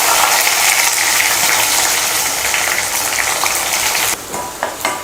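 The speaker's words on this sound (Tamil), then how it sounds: "வெங்காயத்தை நல்லா பொன்னிறமாக வறுத்துக்கலாம்." Small shallots and curry leaves fry in hot oil for a kurma, giving a loud, close, steady sizzle that eases near the end as stirring breaks in, with no talking.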